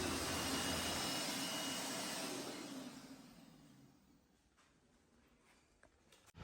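An automatic hand dryer blows a strong, steady rush of air at close range, then tapers off and falls away to a quiet room with a few faint clicks.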